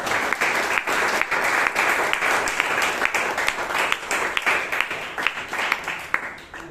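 Audience applause at a Toastmasters meeting in Bangalore: steady, dense clapping from a room of people that holds evenly for several seconds before thinning slightly at the end.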